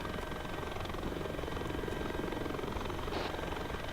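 A helicopter in the military simulation game ArmA 3 gives a steady, dense rotor and engine roar, close and continuous, with no speech over it.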